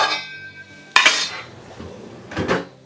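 A saucepan being handled in a home kitchen, with a sharp metallic clank near the start and more rattling knocks of pans and utensils later, close and loud, with no talking.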